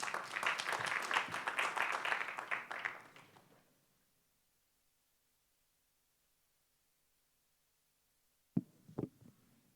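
Audience applause for a startup pitch at an engineering ideas competition, a loud sustained round lasting about three seconds before fading into silence, followed near the end by a couple of sharp knocks or thumps.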